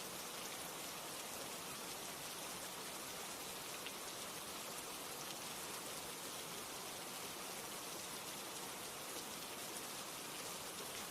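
Steady rain falling on a rooftop, a constant dense hiss of drops with no breaks or changes, close and even throughout, with no voices.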